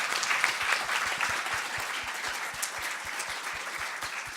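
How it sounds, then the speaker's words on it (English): Audience applause for a keynote panel at an academic symposium: a dense, steady wash of clapping from a sizeable crowd, sustained at even loudness throughout with no voices. "Let's give a round of applause to our wonderful panelists."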